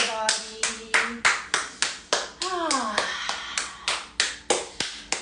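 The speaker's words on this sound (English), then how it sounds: "Let's clap our hands" Hands clap in a steady, even rhythm about three times per second, close and crisp, while a voice speaks briefly partway through the run of claps.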